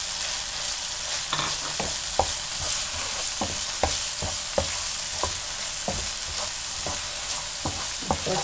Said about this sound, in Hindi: इसको अच्छी तरह से मिक्स कर लें।